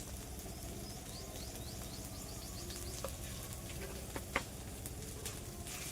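Chili, turmeric and salt sizzle in hot oil in a pan while being stirred, a steady soft crackle with a few faint scraping clicks, quiet and with no voices.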